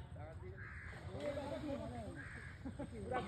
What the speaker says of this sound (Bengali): কাকের বাসার ধারে যাব, কাকটা এখনো বসে আছে